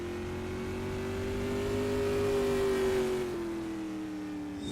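A race car engine droning on a warm-up lap at a time trial show, a steady mid-pitched note rising slightly and easing back as it runs at moderate distance, with no talk.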